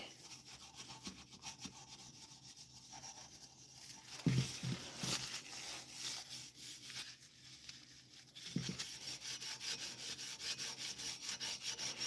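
Steady rhythmic rubbing and polishing strokes on wood, close and moderately loud, brushy scraping that swells louder in the second half with a few bumps of handling in between.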